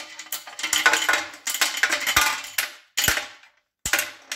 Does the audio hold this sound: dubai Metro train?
no